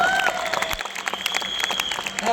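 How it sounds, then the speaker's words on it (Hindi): An audience applauding at an event in India, a dense round of close clapping that holds steady from start to finish, with faint voices mixed in. "एक बार जोरदार ताली हो सकती है वेस्टिज के लिए"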